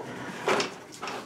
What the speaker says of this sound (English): Let me pull up a board, and we'll do that.